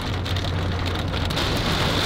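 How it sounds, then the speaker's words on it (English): Heavy rain pours steadily on a parked car in Florida, a loud dense hiss of drops drumming on the roof and windows with no breaks. "As you can see, it is raining."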